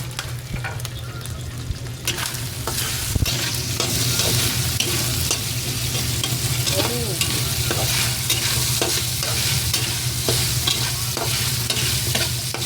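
Meat sizzles and crackles steadily in a hot pan, with occasional scraping and stirring sounds over a constant low hum.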